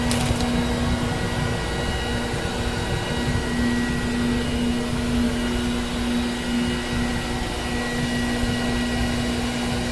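An insulation blowing machine feeds attic insulation through a hose, giving a loud, constant vacuum-like roar with a steady droning hum that continues unbroken, with no voices.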